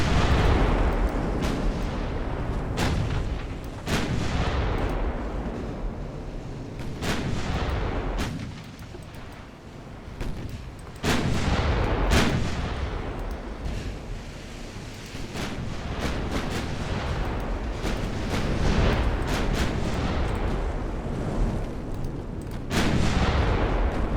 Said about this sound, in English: As my 9-inch guns open fire as well.